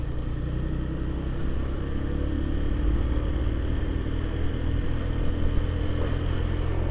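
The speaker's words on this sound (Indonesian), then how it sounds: "Aduh, dam truk." A dump truck passes on a road near Klaten, heard as a steady, loud engine rumble and road drone from inside a moving vehicle.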